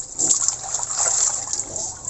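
Running water trickles and splashes while kangkong and feeds are washed, an uneven close splashing stream that swells and eases.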